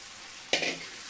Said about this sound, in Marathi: आता आपण हे जे शिजवलेलं मटण आहे ते याच्यात टाकून घ्यायचंय.